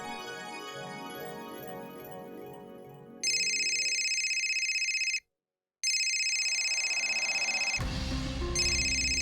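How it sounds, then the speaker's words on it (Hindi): A telephone rings with a steady electronic bell tone in repeated bursts, broken by a brief silence, over soft background sounds. "विशाल जी, ये क्यों फोन कर रहे हैं?"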